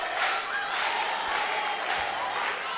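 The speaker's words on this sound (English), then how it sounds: "With the fans here in Estadio Obras Sanitarias singing and clapping" Basketball fans in Estadio Obras Sanitarias during a Brazil versus Venezuela women's Americup game, a dense wash of crowd singing and rhythmic clapping filling the arena, steady and moderately loud throughout.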